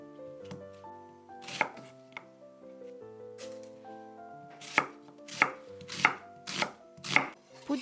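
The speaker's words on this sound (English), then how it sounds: "Cut 1 onion into chunks" A knife chops an onion into chunks on a board, with several sharp, close thuds that fall into a quick, even rhythm toward the end. Soft background music plays underneath.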